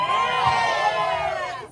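A large audience at a Celtic music festival performance cheers and whoops loudly, a sustained roar of many voices that fades out near the end.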